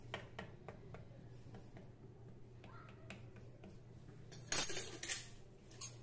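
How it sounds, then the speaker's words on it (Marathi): A fork pricking rolled shankarpali dough before frying, heard as a run of small sharp taps and clicks at a steady pace, quiet and close, with a louder clatter near the end. "आता काटे चमच्याच्या साहाय्याने याला असं थोडं आपण छिद्र करून घेऊ"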